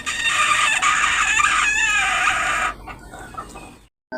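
Backyard chickens close by, a rooster crowing loudly for about three seconds over steady clucking and squawking from the flock, then quieter clucks before a brief silence; no talking.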